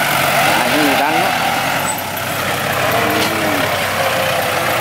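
Bulldozer pushing soil to fill land, with dump trucks tipping earth at the site: a steady, loud heavy-diesel rumble runs throughout, with brief voices over it.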